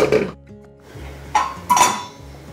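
Maize flour stirred into a boiling pot to make tô, a thick West African porridge of maize and bean leaves, with a few close metallic clinks and scrapes of utensil against pot between quieter gaps.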